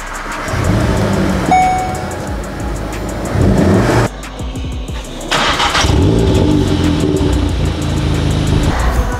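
A Volkswagen Golf R engine starts and is revved hard several times, loud and close, with deep rumbling bursts between brief pauses.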